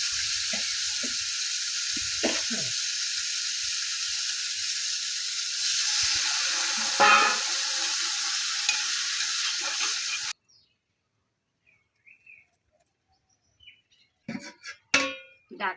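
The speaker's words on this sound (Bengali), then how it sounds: "সজনে ডাঁটাটা দিয়ে দিলাম" Drumstick (sajne data) stalks fry in a pan with chopped onion, nigella seeds and a splash of water. A loud, steady sizzle runs for about ten seconds with a few clinks, then cuts to near silence broken by brief clatters.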